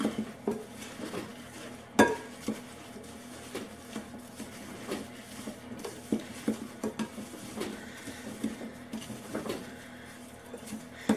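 Chopped pecans and butter being mixed for a crisp topping in a bowl, with irregular scraping, clinking and stirring knocks of a utensil against the dish, moderately close and fairly steady, no talking.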